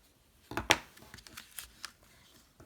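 Scissors cut through card paper close by, giving one sharp snip followed by a few softer snips and light rustles of card stock, faint and quiet, with no voices.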